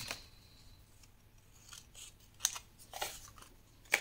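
Scissors cut paper and card for a scrapbook album, with several crisp snips and short sliding cuts spread across the moment, close and clear, with no voices.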